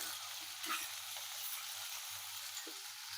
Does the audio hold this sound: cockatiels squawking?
no